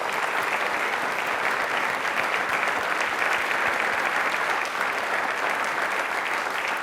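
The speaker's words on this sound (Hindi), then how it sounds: "तालियां प्लीज एक बार इनके लिए जोरदार हो जाए।" Loud, steady applause from a studio audience on a televised Rajasthani quiz show, continuous and dense for several seconds with no speech over it.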